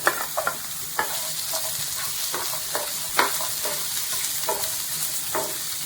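Chopped garlic sizzling in a hot pan for a mushroom xacuti, a steady fry with clicks of stirring and scraping spread through, close and moderately quiet.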